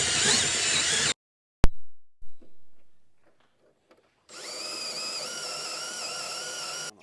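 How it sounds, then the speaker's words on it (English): A power drill whines drilling out rivets on a camper roof top, stops abruptly with a sharp click and a few clunks, goes quiet, then spins up again and runs steadily. "We got 1, 2, 3, 4, 6, 9 rivets, so we're gonna have to drill those out"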